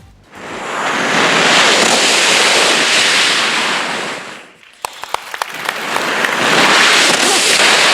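A stage performer uses only his voice to imitate the roaring sea: two loud, surging washes of noise, broken in the middle by a short pause with a few sharp clicks before the roar swells again.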